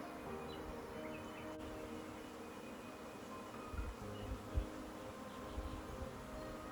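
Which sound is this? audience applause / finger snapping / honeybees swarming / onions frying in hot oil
honeybees swarming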